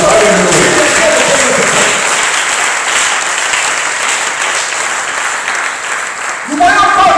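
A church congregation applauds and cheers for the Lord during a worship service, loud sustained clapping with crowd voices that fades slightly before voices and music return at the end.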